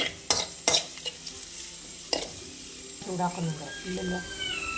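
Garlic and ginger pieces are stirred in a pan for mango pickle, opening with sharp scraping clicks and then a soft continuous sizzle.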